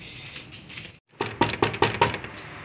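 A run of five sharp knocks on a house door follows a brief pause, loud and evenly spaced, the first part of the moment filled with softer background noise.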